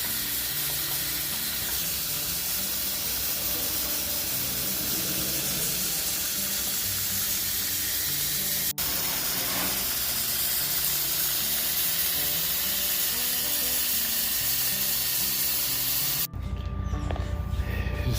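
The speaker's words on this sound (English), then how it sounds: "give all of these tomatoes a really good rinse." Fresh homegrown tomatoes rinsed for canning Italian sauce, with a steady loud rush of running water spraying over them, continuous and close, with a brief change near the end.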